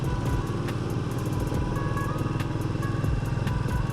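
A motorcycle ridden over a rough, broken road on a hilly Konkan route to Ganpatipule, its engine droning steadily and loud up close with bumpy, uneven pulsing and occasional rattles, and no talk.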